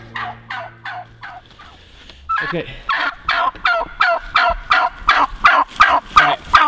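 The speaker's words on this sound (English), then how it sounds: "Alright, quiet turkeys." A flock of turkeys gobbles loudly and close by, bursts coming in quick rhythmic succession that grow stronger toward the end, with a brief spoken word partway through.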